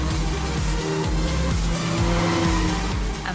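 Race cars speed around the Silverstone track with a loud continuous engine roar close by, engines rising and falling as they rev through repeated gear changes, and tyres whine underneath.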